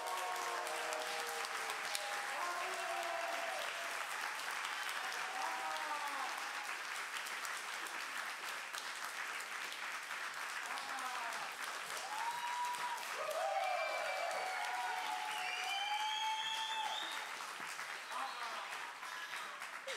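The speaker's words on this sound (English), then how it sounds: "thank you for the beautiful applause and all the love" A conference audience applauds steadily for about twenty seconds, sustained clapping at moderate distance, with a voice speaking over it at points.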